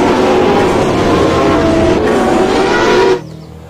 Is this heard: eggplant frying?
no